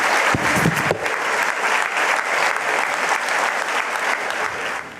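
An audience at a global forum plenary gives a loud, sustained ovation for an award recipient: dense, continuous clapping fills the hall for the whole stretch and tapers slightly at the end.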